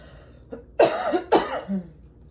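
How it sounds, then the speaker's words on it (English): A short coughing fit: two harsh, close coughs in quick succession, followed by a softer throaty tail, with no talking. "I had to take a brief moment to have a coughing fit"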